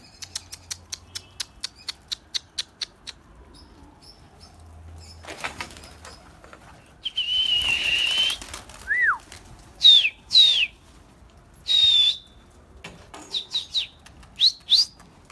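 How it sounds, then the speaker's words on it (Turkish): Pet birds in a backyard coop giving a run of short, rhythmic chirps followed by longer whistled tweets and a burst of wing flapping, all close and clear with no voices. "Bayağı kuşum var arkadaşlar ya."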